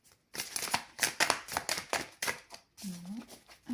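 Large tarot cards being shuffled by small hands, a quick run of papery riffling and slapping close by that stops as a voice begins to talk.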